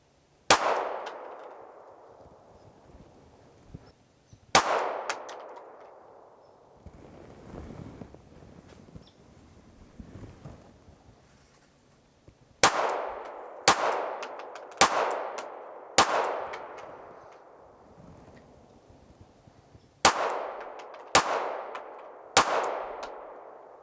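A SIG P365XL pistol fitted with a Romeo sight fires at an outdoor range. Sharp, loud gunshots ring out singly and in quick clusters, and each crack is followed by a decaying echo, with wind noise in the gaps between shots.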